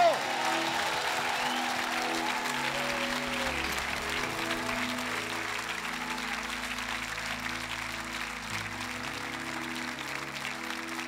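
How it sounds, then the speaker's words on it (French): Congregation giving an ovation to God in a French-language church service: steady applause from a large gathering under sustained organ or keyboard chords, continuing evenly throughout. "Mais vous lui donnez une ovation?"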